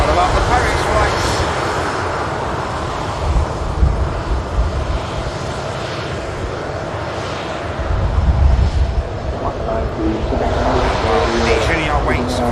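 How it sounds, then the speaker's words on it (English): An EasyJet Europe airliner arriving at Manchester Airport from Paris, its engine roar steady and broad, swelling slightly at times, with wind buffeting the microphone throughout. "Next inbound aircraft, EasyJet Europe, coming in from Paris."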